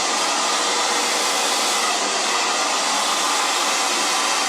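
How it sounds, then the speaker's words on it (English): A blow dryer runs steadily and loudly the whole time, a constant close airy whoosh with no talking. "hit the cool button on my blow dryer to really set it."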